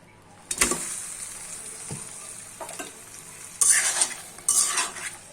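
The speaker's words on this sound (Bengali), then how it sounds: "বড়িগুলোকে আমি কিছুক্ষণ ভেজে নিব" Sun-dried lentil dumplings (bori) fry in mustard oil in a wok, giving a steady close sizzle with louder bursts of crackling and scraping as they are stirred, with no speech.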